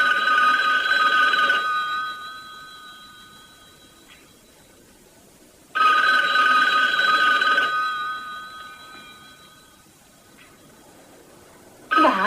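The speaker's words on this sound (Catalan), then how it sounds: "Va, agafa'l, només és el telèfon." Old-fashioned telephone bell rings in a 1978 Halloween horror film, two long shrill rings separated by a pause, loud and close with no talking, and a third ring just starting at the end.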